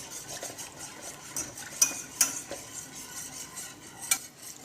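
Food being stirred in a pan gives a steady scraping and clinking of a utensil against the metal, with a few sharper knocks standing out over a soft background hiss.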